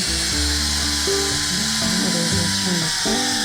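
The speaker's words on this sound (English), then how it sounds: "Trying to drill through a fence is not easy" A power drill grinds loudly up close, its motor pitch stepping up and down as the bit bites into a fence.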